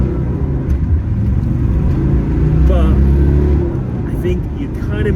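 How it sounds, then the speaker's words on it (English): A Land Rover Defender 90 with the TD5 diesel engine runs with a steady low rumble and whir from inside the cabin, rising slightly as it pulls away, with talking over it. "I can hear the TD5 under the bonnet, as you can probably hear in this video when we get going."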